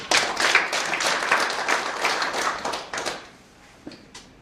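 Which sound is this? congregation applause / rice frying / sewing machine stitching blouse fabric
congregation applause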